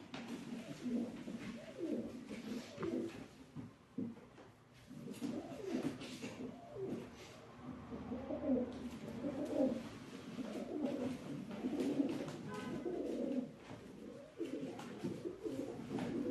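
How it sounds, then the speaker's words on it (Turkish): Pigeons coo repeatedly in soft, throaty rolling calls, several birds overlapping close by with no talking. "Güzel kuşlar."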